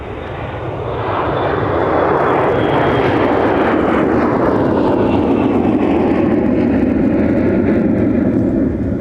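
An airliner takes off from a runway at MSP airport, its engine roar swelling within the first two seconds and then holding loud and steady.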